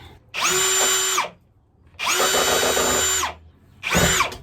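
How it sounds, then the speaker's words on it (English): A power drill with a stop collar on the bit whines through metal rivets on a van window in three bursts, loud and close, with short quiet gaps between runs and a grinding bite as the bit cuts. "I've got my drill. I have a stop collar on the drill bit"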